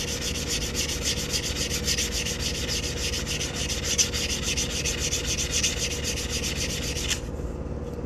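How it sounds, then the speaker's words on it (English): Abrasive sanding on the cut edge of a steel coin ring, a close, continuous fast rasping scrub with rapid back-and-forth strokes that stops abruptly near the end. "I'm just sanding this cut edge smooth"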